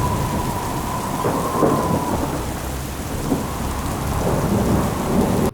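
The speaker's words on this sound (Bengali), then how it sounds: "তারপর হঠাৎ একটা দমকা ঝড়ো হাওয়ায় নৌকাটিকে জোরে জোরে দুলিয়ে দেয়।" A stormy gust effect for a Bengali horror cartoon, heard as a continuous roar of wind and heavy rain with low rumbling thunder, loud and unbroken throughout, with no voices.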